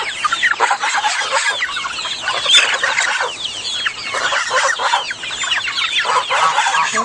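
Chickens in a yard cluck continuously and loudly as a flock, their overlapping calls layered into a busy, unbroken chatter with occasional sharper squawks and no one speaking.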